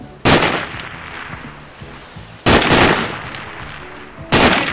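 Three loud gunshots from a Sniper Ghost Warrior shooting range ring out about two seconds apart, each a sharp broadband crack followed by a fading echo, with no voices.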